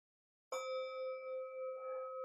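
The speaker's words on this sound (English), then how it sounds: "I have my little bell." A small meditation bell is struck once in a quiet room, giving a clear bright onset followed by a long, pure, slowly wavering ring that sustains without fading much.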